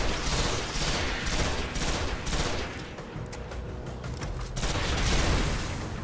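Rapid gunfire and grenade blasts in the Destiny video game, dense overlapping bursts of shots and booms sustained throughout, loud and close with no talking.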